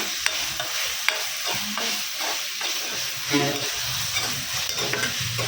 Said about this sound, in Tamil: இப்படி கிண்டிக்கலாம் ஃப்ரெண்ட்ஸ்.